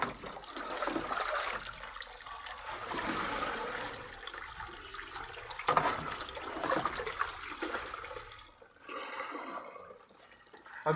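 Water pours steadily into a container, a continuous rushing splash at close range that swells and eases a couple of times before thinning out near the end.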